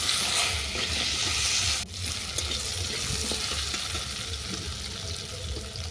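Potatoes frying in a pan until browned, giving a steady loud sizzle with a brief dip partway through, then continuing evenly.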